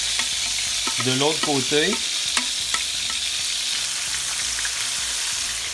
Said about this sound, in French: les oignons que j'avais, l'ail, et on va bien faire gousser ça là, dans la poêle